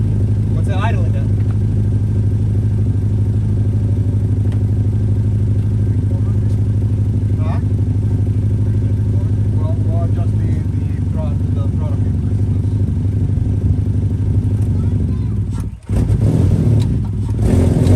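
Toyota SC300 car engine idling steadily after an EGR delete, a constant low drone holding throughout with faint voices and clatter over it, briefly cut near the end.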